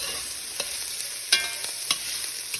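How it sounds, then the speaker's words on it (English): Celery, onion and carrot mirepoix sweating in a pan before braising short ribs, giving a steady low sizzle with a few sharp clicks of tongs stirring the vegetables, no talking. "the mirepoix, the celery, onions, and carrots have been sweating for now about 5 minutes"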